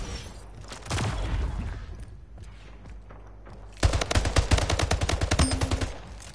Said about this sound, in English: So they're shooting at it through them.